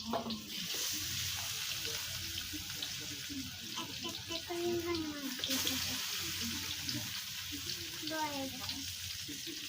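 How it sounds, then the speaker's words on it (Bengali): Koi fish fry in hot oil, with a loud, steady sizzle throughout, close by, and a voice speaking over it at times. "আমরা মাছ তেলে ছেড়ে দিছি, এবার ভাজবো সুন্দর করে"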